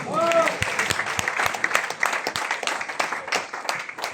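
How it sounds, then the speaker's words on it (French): An audience applauds at a French show. Brisk, uneven clapping from a modest crowd runs throughout, with a brief voice over it at the start. "je vous demande d'applaudir très très fort"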